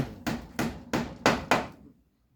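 Five evenly spaced hammer blows ring out sharply during house construction, each a loud, close strike with a short decay, followed by quiet.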